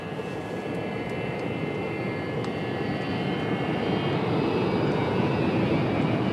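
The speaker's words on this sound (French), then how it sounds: "Pourquoi il décolle pas, ce putain d'avion?" A steady, loud roar of airplane engines fills the cabin, with continuous rumble and faint rattles as the aircraft rolls down the runway.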